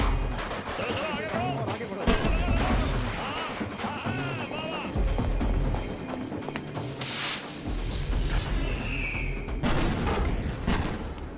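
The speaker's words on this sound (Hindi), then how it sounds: "पटाखे की आवाज है।" Firecrackers bursting in a dense, continuous barrage of loud cracks and booms, close and sustained throughout with little pause, set within an action scene.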